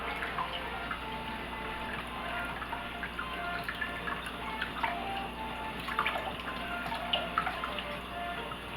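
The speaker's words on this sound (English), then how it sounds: "Gonna run it under cold water." Steady cold tap water running over a boiled egg, a continuous broadband rush with small irregular splatters, fairly close and moderately quiet, no voices.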